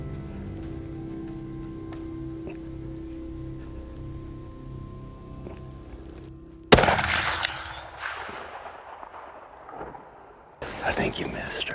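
During a Texas wild hog hunt, a single sharp rifle shot cracks loudly out of a low, steady hum, then rings out in a long fading echo. A second burst of sound follows a few seconds later.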